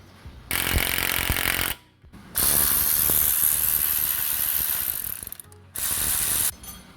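Nuts and bolts coming off the drive shaft of a VW Passat 2.0 TDI, with loud close ratchet bursts in three runs separated by short pauses.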